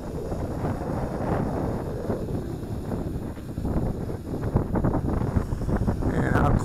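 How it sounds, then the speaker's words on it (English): Gusty wind buffets the microphone outdoors while an MJX Bugs 3 Pro brushless GPS drone flies overhead, a loud continuous low rumble with a faint whine rising near the end. "That wind's blowing it away."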